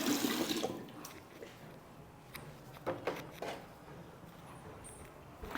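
Star fruit is washed under a running tap: a burst of water splashing at first, then softer trickling with a few handling knocks and drips, fairly quiet throughout.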